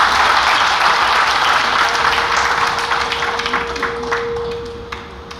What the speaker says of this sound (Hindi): ज़रा मुझे तालियों से अनुमति प्रदान करें।